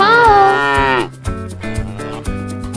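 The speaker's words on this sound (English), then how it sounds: "Cow." A cow gives one loud, close, drawn-out moo that ends after about a second, followed by bouncy music with a steady beat.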